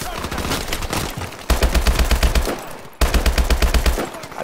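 Rapid automatic gunfire rattles from the video game Call of Duty: Advanced Warfare, loud and close, in dense bursts with a brief break near the middle and another toward the end.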